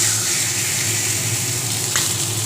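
Katla fish fry in hot oil in a wok with a steady, dense sizzle that holds evenly throughout, with one brief clink near the end.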